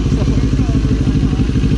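A CFMoto NK400 motorcycle engine runs steadily, with a close, loud, even thrum and rhythmic mechanical pulsing throughout, while voices may murmur faintly underneath.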